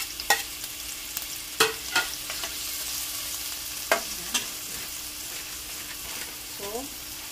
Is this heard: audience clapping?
no